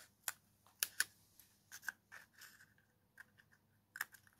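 Scissors snip through folded toilet-paper-roll cardboard in short, crisp cuts, several quick clips spaced irregularly with quiet pauses between, close and fairly faint.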